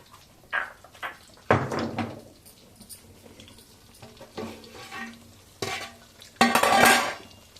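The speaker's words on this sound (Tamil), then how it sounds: "இந்த பிரியாணி ஓப்பன் பண்ணி பார்க்கலாம்." A biryani container is opened in a kitchen and dishes are handled, with scattered clatters, lid and container knocks, and scraping of cutlery and pots in irregular bursts, close and moderately quiet.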